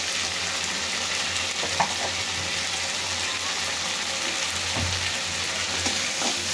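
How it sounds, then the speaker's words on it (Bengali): Spice paste with ginger paste fries in a pan, a steady hissing sizzle like light rain, with a few soft stirring knocks, close and without talk. "এখন মশলাটাকে কষিয়ে তারপরে হলুদ মরিচ লবণ এগুলো দিয়ে দিবে।"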